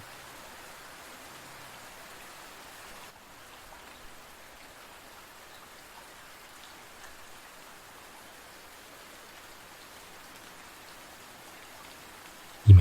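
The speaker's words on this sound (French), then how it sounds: "Imaginez à présent la pluie qui tombe sur les trottoirs d'une grande ville, la nuit." Soft, steady rain patters evenly on city sidewalks at night, a faint continuous hiss with no voices.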